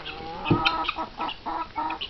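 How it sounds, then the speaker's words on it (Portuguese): Chickens cluck in short bursts at close range, with several quick calls following one another. No one talks over them. "Falar das galinhas."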